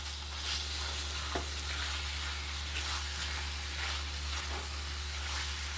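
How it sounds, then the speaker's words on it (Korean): Pan fond being scraped after vinegar goes into pork vindaloo: a steady close sizzle of frying with repeated soft scraping and stirring strokes, no talking. "식초를 넣은 김에 여기 있는 요 폼드도 이렇게 맛있는 부분도 긁도록 하겠습니다"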